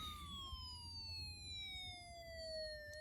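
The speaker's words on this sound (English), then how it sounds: "When I turn on the slide switch, you'll hear an upside down siren." A steady electronic siren tone from a Snap Circuits Extreme SC-750 integrated circuit, sliding slowly downward in pitch, continuous and clear over a faint low background rumble.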